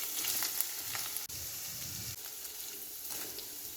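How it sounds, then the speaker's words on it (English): Beetroot pieces, garlic and green and red chillies fry in a pan with a quiet, continuous sizzle, broken by a few soft clinks and stirring sounds, heard alone. "Fry for 5 minutes."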